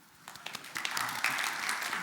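A church congregation breaks into applause during a Sunday service, scattered claps at first that quickly swell into a fuller, denser round of clapping, moderately loud.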